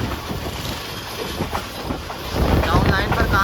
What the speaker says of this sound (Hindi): कोई ट्रेन भी है दूर